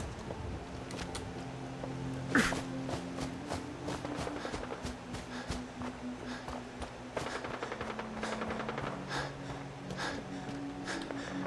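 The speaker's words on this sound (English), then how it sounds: "Oh, we got gunfire" Gunfire in a video game: scattered sharp cracks and short bursts of shots, some in rapid runs, faint and fairly distant beneath game ambience and footsteps.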